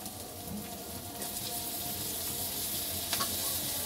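Capsicum and mixed vegetables frying in a pan for noodles, giving a steady, close, crackling sizzle with no break and no talking.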